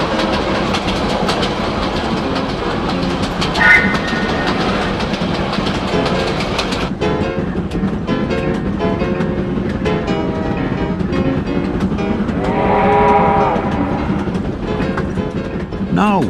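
Locomotive J10 rumbles steadily across the Makuhini Viaduct on New Zealand's North Island Main Trunk, its engine droning with rhythmic clatter from the wheels, loud and close throughout.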